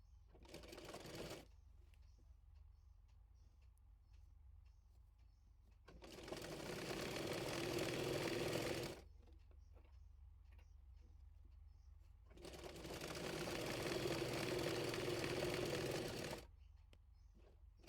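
An electric sewing machine stitches the folded sleeve hem of a kameez in three separate bursts of rapid, even whirring, a short one and then two longer runs, with quiet pauses between them.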